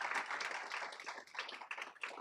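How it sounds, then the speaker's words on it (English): Audience clapping at a youth and family launch event, a fairly quiet patter of individual hand claps with uneven rhythm, somewhat thin and sparse rather than a full roar. "So let's have another round of applause"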